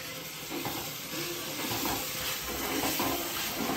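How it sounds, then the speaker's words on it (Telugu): Chicken pieces frying with masala in a pan, a steady close sizzle broken by scraping stirs every second or so, no talking. "ఫ్రై చేస్తున్నాం మనము చికెన్ ఫ్రై"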